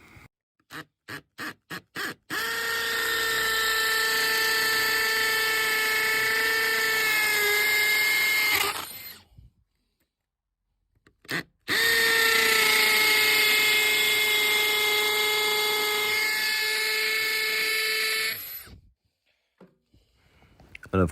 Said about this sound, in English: So I just drilled the holes perfectly for the socket to be fixed to the wall.